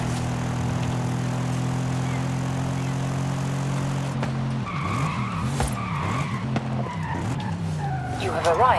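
A rally-tuned bi-turbo car of over 600 horsepower in Forza Horizon 5 holds a steady loud engine drone, then revs rise and fall through gear changes as tires skid and squeal, with spoken commentary over it.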